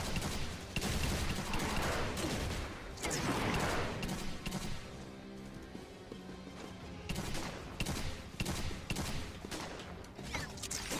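Gunfire from the video game G.I. Joe Operation Blackout, including a commander's hand cannon, comes as dense, loud bursts of overlapping shots with short lulls between volleys.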